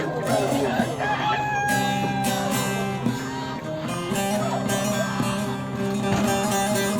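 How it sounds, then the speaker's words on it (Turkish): Honking and cackling fowl calls, a local-breed goose among farm birds at a poultry market, with roosters crowing and clucking nearby, people talking faintly underneath. "Burada da cins bir kaz gördük."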